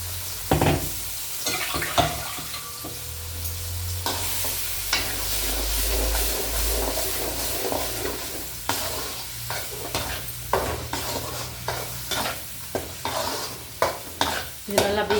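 Garlic, chili and biryani masala, with asafoetida and turmeric, sizzle in hot oil while a spoon scrapes and stirs the pan in steady, repeated strokes, close and clear with no one talking.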